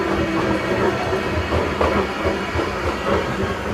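Legoland Express ride train running in the rain, a steady rumbling roar with faint rhythmic clatter and hiss, continuous and fairly close throughout with no voices.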